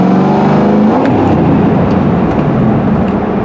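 Shelby GT500 accelerating hard with spinning tires: a loud, continuous, roaring engine and tire noise that fills the whole stretch, steady with slight surges.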